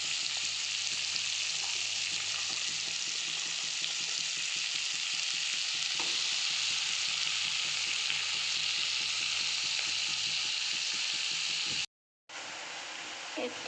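Lai shak mustard greens frying in hot oil, a dense continuous sizzle with scraping stirs, a faint voice low beneath it and a sudden brief break near the end.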